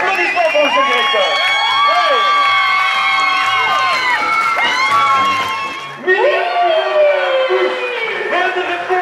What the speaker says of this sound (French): Applaudissements pour monsieur le directeur.